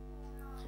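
A voice imitates a cat's meow, one short, faint, drawn-out call.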